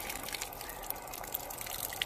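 Water flows steadily out of a French drain pipe in a yard, a faint continuous trickle and gush with light splashy drips, heard without voices.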